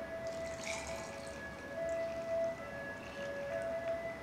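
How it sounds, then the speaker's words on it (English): Sangria with strawberry, pineapple and blueberry pours over ice at the bottom of a glass, a steady liquid trickle with faint clinks and a thin sustained tone, close and fairly quiet with no talk. "with some ice at the bottom, and you just pour."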